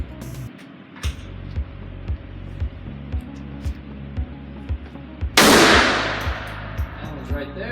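Shots fired at an indoor gun range, a regular series of sharp, booming reports about every half second with ringing echo, followed by a loud burst of harsh hiss near the end.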